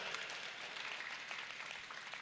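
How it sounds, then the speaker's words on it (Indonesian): Audience applause fills a hall at an Islamic religious gathering of the Rijalul Ansor group, with dense, steady clapping from many hands that continues evenly throughout. "Luar biasa, tepuk tangan untuk muter."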